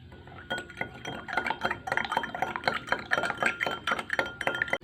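A metal teaspoon stirs two teaspoons of sugar into hot water in a glass, making rapid, close, continuous light clinks and scrapes against the glass.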